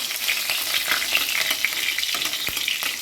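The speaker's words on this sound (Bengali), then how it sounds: "তেল দেওয়ার পর কালো জিরে দিয়ে দিয়েছি, কাঁচা লঙ্কা দিয়ে দেবো। দিয়ে কাঁচা লঙ্কাটা ভালো করে ভেজে নেব।" Green chillies and nigella seeds fry in hot oil for a potato curry, giving a steady, close crackling sizzle with a few sharper pops and light stirring, and no voices.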